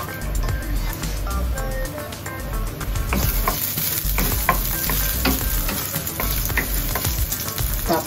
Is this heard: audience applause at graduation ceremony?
no